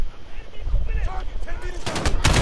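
AK rifle fire in the Call of Duty Modern Warfare campaign, loud and close, starting as scattered shots and building into dense rapid bursts near the end, with some game sounds and faint voices mixed in.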